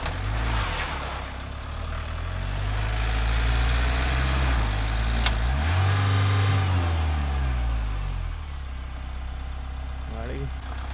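A Mahindra Thar Roxx struggles in deep snow at Gulmarg, Kashmir, its engine idling and then revving up and down in loud, close surges as the wheels fight for grip, with voices talking over it.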